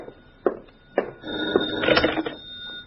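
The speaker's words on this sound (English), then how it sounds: "And then the phone rang." An old-fashioned telephone bell rings as a radio drama sound effect, in sharp repeated bursts that build into a sustained jangling ring, alone without talk.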